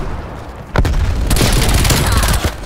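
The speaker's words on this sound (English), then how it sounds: "Sending frag grenade." Frag grenade blast in Call of Duty: Black Ops Cold War during a Hardpoint match, a sharp thud followed by a loud sustained burst of explosions and gunfire, close and heavy.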